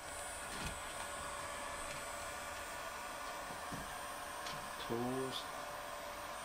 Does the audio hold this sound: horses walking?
no